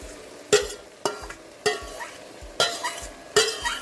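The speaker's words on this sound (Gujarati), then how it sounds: "અને આ બધા જ શાકને આપણે સરસ રીતે મિક્સ કરી લઈશું." Fried vegetables for Kathiyawadi undhiyu being stirred with a spoon in a pan, five distinct scraping strokes at a steady rhythm over a faint sizzle, close and fairly loud, with no talking.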